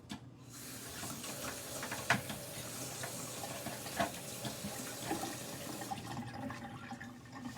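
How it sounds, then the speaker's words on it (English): Tap water runs steadily into a sink as someone washes their hands, with a few brief knocks and clicks against the basin over the continuous flow; no voices are heard. "Let me wash my hands."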